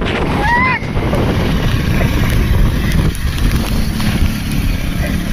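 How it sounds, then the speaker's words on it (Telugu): Strong wind with rain in Hindupur roars in loud, constant gusts that buffet the microphone, a thick rushing noise with a brief high whistle early on, no clear talk. "గాలి, గాలితో కూడిన వర్షం రెండో ఒకేసారి ఏకమై వస్తాడే"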